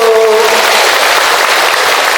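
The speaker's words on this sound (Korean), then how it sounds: "우리 다짐하는 의미에서 박수 힘차게 한번 보내주세요." An audience at a Korean seniors' festival applauds steadily and loudly, a dense wash of many hands clapping together without pause.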